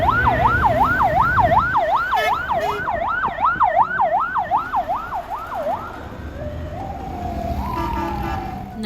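An ambulance siren wails loudly in a fast, steady up-and-down cycle amid traffic in Alexandria, the ambulance stuck in traffic, then cuts off, leaving engine rumble and a passing horn-like tone.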